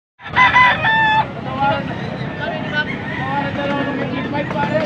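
A Kanawayon hatch gamefowl rooster crows loudly at the start in Angeles, Pampanga, then the sound settles into a busy background of voices and crowd chatter.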